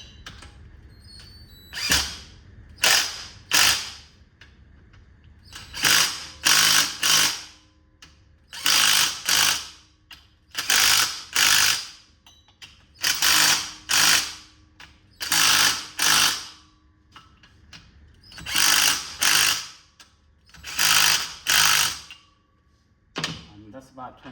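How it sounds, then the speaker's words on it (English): A hand ratchet tightens head bolts on a 3.6L GMC Acadia engine during a head gasket job. Close, loud bursts of rapid clicking come in repeated short strokes, often in pairs, separated by brief pauses. "I'm gonna start tightening up on the third bolt right here"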